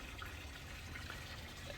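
Water flowing back into a clay-lined garden pond, a faint, steady trickling and gurgling fill with no talk.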